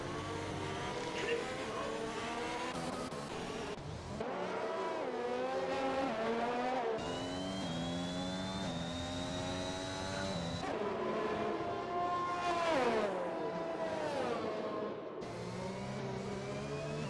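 Race cars in an F1 racing video game scream past on the Austria circuit, their engines rising and falling in pitch as they shift and lap. Race commentators talk over the engines throughout.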